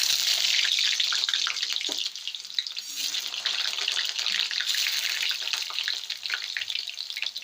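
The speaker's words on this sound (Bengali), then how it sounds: "এবার আমি টুকরো করে রাখা আলুগুলো ভেজে নেব।" Potato pieces frying in hot oil in a wok, a loud, steady hiss and crackle of sizzling with small irregular pops, close up and continuous throughout.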